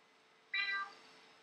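A person imitates a cat meow, a single short, fairly loud mewing call rising out of a quiet background.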